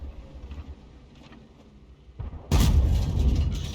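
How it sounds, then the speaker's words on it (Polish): A tank shell ricochets off armour in World of Tanks, a sudden loud metallic crack and roar in the second half, after quieter engine rumble. "Uuu, rykoszet."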